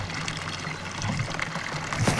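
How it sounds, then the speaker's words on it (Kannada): Water pours steadily from a bucket for cattle to drink in hot sun, a close, continuous splashing gush that runs unbroken throughout. "ಬಕೆಟ್ ಖಾಲಿ ಆದರೆ ಕೆಳಗಡೆ ನೀರು ಹೋಗ್ತಾಯಿದೆ"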